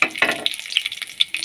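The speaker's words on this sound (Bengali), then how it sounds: "বন্ধুরা এটা হালকা করে নেড়ে নিচ্ছি।" Dry red chillies and whole garam masala crackle in hot oil as they are lightly stirred, a brief close sizzle with a few quick scrapes, without speech.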